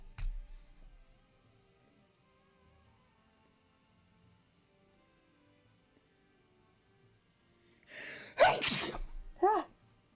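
A single sharp sneeze bursts out near the end of a mostly quiet stretch, with a short intake and a quick trailing sound just after, against faint background music.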